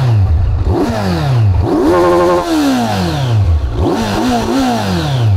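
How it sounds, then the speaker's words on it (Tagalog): A 2025 Kawasaki Z900 SE inline-four engine with stock exhaust revs up and down repeatedly, rising and falling in pitch, loud and close, with no talking. "parinig ko sa inyo yung makina"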